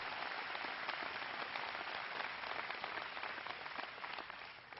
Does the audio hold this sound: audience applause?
yes